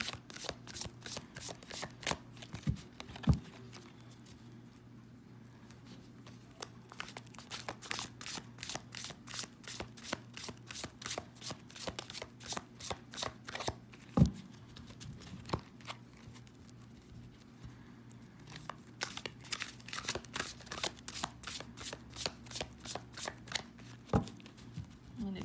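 A deck of cards is riffled and bridged again and again, crisp flurries of flicks over a steady low hum, with no talking.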